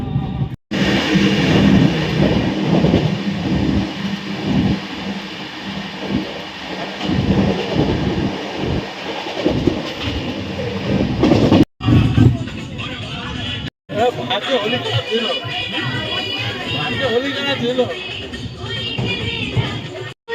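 A passenger train from Kolkata to Ujjain rumbles steadily along the rails, heard from inside, loud and close, with voices faintly beneath and two brief cutouts near the end.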